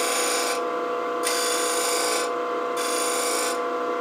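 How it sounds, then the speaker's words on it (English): A lathe gouge scrapes along a spinning wooden coffee scoop in a bright, steady rasp that comes in repeated strokes, close and loud, each pass separated by a short easing-off. "Round it over a little bit by just a rubbing scrape."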